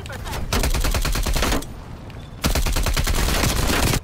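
Rapid automatic gunfire in Black Ops Cold War, loud and close, pounds in two long bursts separated by a brief lull, with faint voices under it.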